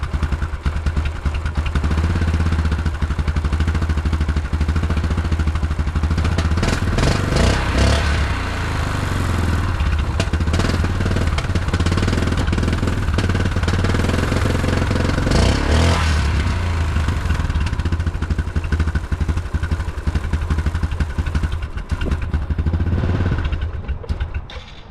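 A Yamaha Grizzly 660 ATV that sat outdoors for years runs loud and steady near the listener, its engine idling with a rough mechanical clatter and a few swells in revs.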